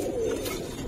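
Giribaz pigeons coo in a soft, low, close call that lasts under a second, with no voices over it.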